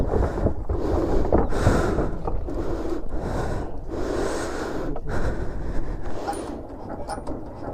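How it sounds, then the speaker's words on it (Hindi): A boat engine at Gosaba port in the Sundarbans chugs to life in rough, uneven bursts, close and fairly loud, mixed with wind buffeting the microphone. "बोट स्टार्ट हो रही है अपनी यहाँ पर।"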